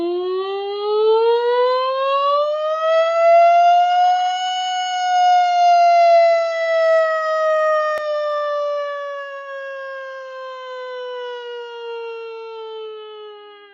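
A single voice glides smoothly up and then slowly down in pitch, imitating a siren, sustained and loud for over ten seconds without pause.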